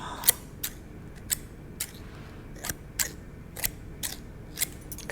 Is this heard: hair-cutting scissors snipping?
yes